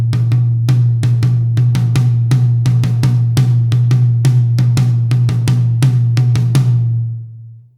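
Drum kit playing a signature thematic rhythm, a steady stream of sharp, loud close-miked hits over a sustained low tone that fades out at the end.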